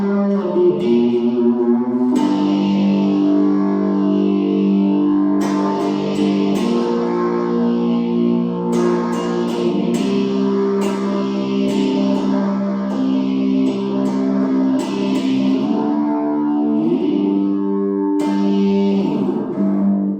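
Homemade electric guitar played through heavy distortion with echo, sustained buzzing chords and sliding notes ringing loud and close for about twenty seconds, no talk.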